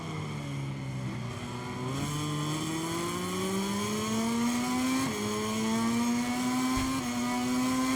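Racing motorcycle engines in the game MotoGP 23 whine continuously, the pitch climbing steadily through the gears with short drops at each shift, loud and sustained with no voices over them.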